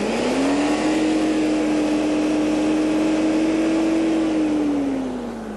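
A 1990 Lexus LS400 V8 engine revving up to 6,000 RPM, a steady sustained high-rev hum that climbs, holds level for several seconds, then drops away, loud and close with no speech.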